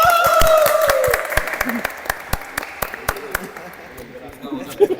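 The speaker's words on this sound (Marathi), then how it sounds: "टाळ्या टाळ्या." Crowd applause and scattered clapping after a badminton match, loud and near, with talk over it as the clapping thins into a few separate claps.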